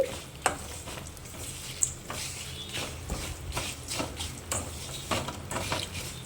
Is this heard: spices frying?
yes